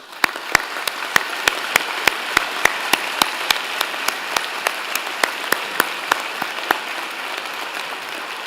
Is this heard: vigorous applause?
yes